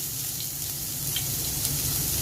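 Chopped onion hits oil in a frying pan, producing a steady, even sizzle with a few faint crackles and no voices.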